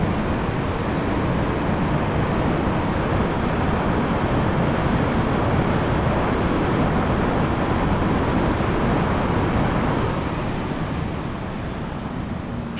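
Wind noise inside a Bell Star Racing helmet on a motorcycle above 200 km/h: a loud, continuous broadband roar of rushing air with a faint high whine, easing slightly near the end.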